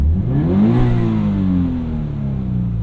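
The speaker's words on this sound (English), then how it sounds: "The engine, you know, for being a high performance, small displacement, high revving engine, doesn't rev all that quickly." The small-displacement, high-revving engine of a 2017 Toyota 86 with a six-speed manual revs up loud and close, climbing in pitch and then easing off as it settles.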